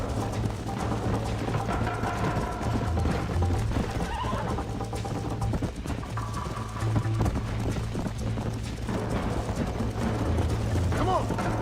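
A horse in the video game Red Dead Redemption gallops with a continuous rapid clip-clop of hooves, along with whinnies and game sounds, while a player talks over it throughout.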